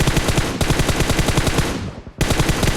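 Rapid automatic gunfire in PUBG Mobile on the Livik map, loud and continuous bursts with a brief pause before the firing resumes.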